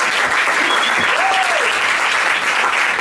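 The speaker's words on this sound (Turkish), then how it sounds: "Volkan için de bir alkış." Loud, steady applause from a live audience at a Turkish music event, dense clapping filling the whole stretch without a break.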